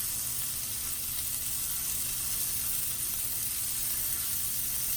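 Beef browns in a pan for a crock pot stew, giving a soft, steady sizzle and hiss heard close and uninterrupted throughout.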